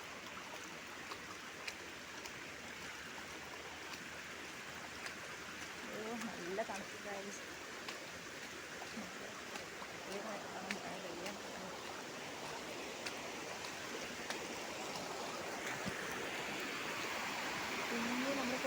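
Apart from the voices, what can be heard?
stream water flowing over a concrete path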